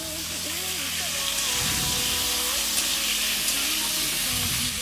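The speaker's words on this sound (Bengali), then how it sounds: "পটলগুলো একটু লাল লাল করে ভেজে নেবো" Halved pointed gourds (potol), lightly salted, sizzle steadily in hot oil in a kadai for a dim potol dish, a continuous close frying hiss with a voice talking over it.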